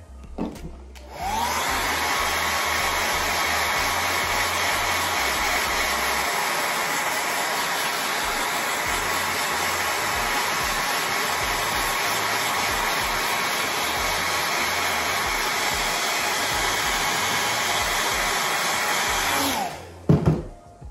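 A hair dryer blows steadily and loudly at close range, switching on after a moment and running in a constant whirring rush for nearly twenty seconds before cutting off.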